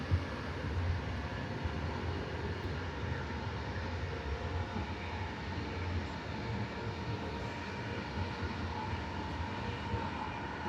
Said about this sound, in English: So nice to be on this train.